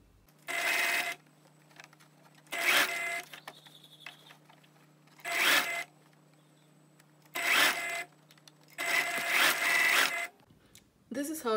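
Sewing machine stitching a quarter-inch seam along the edge of a fabric scrunchie, running in five separate bursts of about a second each with quiet pauses between them, set against a steady low hum.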